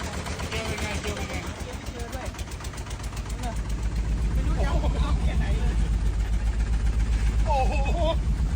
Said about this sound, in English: Oh my God, what happened to this engine?